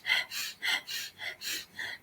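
Seven rhythmic, forceful pumping breaths taken through an open mouth during a metabolism breathing exercise, evenly spaced and close, each a short airy burst with no talking.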